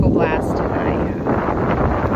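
Wind buffets a microphone in a loud, steady low roar that fills the whole brief moment.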